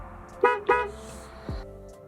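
An aftermarket horn wired to a separate button on a BMW E36 gives two short, loud honks close up, then a shorter, fainter third blip.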